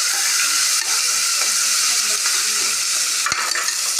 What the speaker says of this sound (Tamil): இப்போ நம்ம வந்து வெங்காயத்தை வணக்கிறோம்